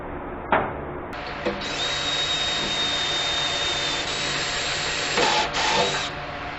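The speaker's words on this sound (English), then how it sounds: "Now I'm going to cut this last hole." A power drill whines steadily while boring through material, a continuous high-pitched drone with small shifts in load, no voices.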